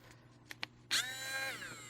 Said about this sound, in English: So I'm just going to drill right through the center.